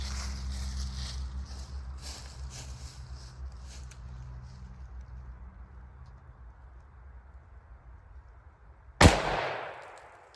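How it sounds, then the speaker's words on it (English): A single loud .410 snubnose shotgun blast fired with PDX-1 Defender shells at a 7-yard target, going off sharply near the end after a long stretch of low background rumble, with a brief decaying tail. "Repeating the 7-yard shot with PDX-1 Defenders."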